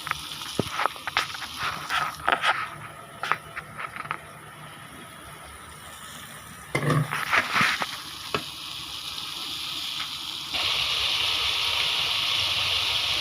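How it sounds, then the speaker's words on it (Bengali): Potatoes with pointed gourd sautéing in a pan, scraping and clattering spatula strokes over a steady sizzle that grows louder and more constant toward the end, close and alone. "এখন দেখতে পাচ্ছেন আলু কষায় নিচ্ছি"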